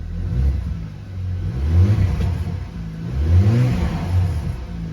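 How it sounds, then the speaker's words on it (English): An Audi A4 B8 engine runs rough with a slight misfire, its note surging in two uneven swells of revving over a steady, close mechanical hum, with no voices. "It's misfiring a little bit."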